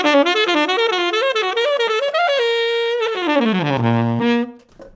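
Single guitar plays an augmented triad exercise, arpeggios stepping upward through tightly voice-led chord tones in a steady, even rhythm, ringing to a held final note that fades, with no talking.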